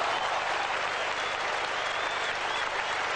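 Cricket crowd at an Australia versus England test match in 1978 applauding steadily, a dense unbroken wash of clapping from a large crowd with no talk over it.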